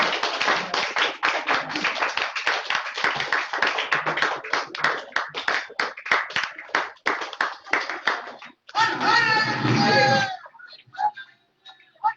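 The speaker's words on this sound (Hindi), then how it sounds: "ताली बजते रहना चाहिए" Audience at a team success celebration in Prayagraj keeps clapping steadily and fairly close, with a louder burst near the end before it trails off.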